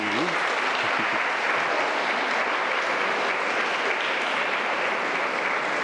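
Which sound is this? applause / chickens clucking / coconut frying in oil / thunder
applause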